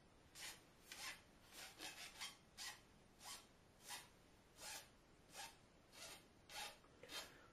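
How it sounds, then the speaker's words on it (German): A regular hand file rounds the edges of a wooden arrow nock in about a dozen quiet, rhythmic rasping strokes, each a brief scratchy swipe with short pauses between and no talking. "und zwar mit der normalen Feile. Und runden auch hier ein wenig die Kanten ab"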